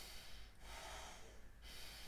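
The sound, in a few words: sniffing breath in through nostrils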